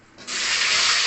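Taro pieces drop into hot oil already seasoned with dried red chili, bay leaf and panch phoron, setting off a sudden loud, steady hiss of sizzling that holds at full strength to the end.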